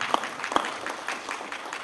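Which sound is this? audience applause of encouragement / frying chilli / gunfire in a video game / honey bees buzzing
audience applause of encouragement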